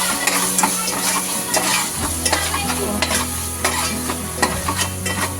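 Onions fry in a pan with onion-garlic masala and coriander powder for a Konkani-style crab dish, giving a steady close sizzle broken by repeated scraping stirs of a spoon.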